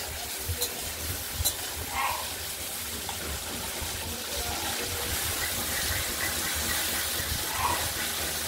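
Shrimp fry in a pan as a stuffed pointed-gourd dish is prepared, giving a continuous close hiss and bubbling sizzle with a few soft pops, steady throughout and without talk.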